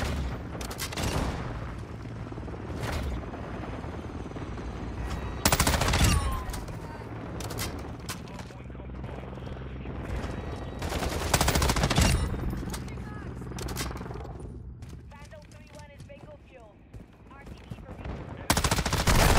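M13 rifle gunfire in Modern Warfare 2, with rapid automatic bursts and single shots cracking loudly in repeated volleys alongside other game effects and a little talk.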